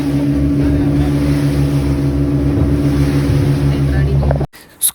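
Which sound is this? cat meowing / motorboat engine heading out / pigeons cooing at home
motorboat engine heading out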